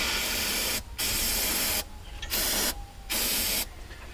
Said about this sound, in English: spray the oil away from it, just to keep it from going down inside the cylinder.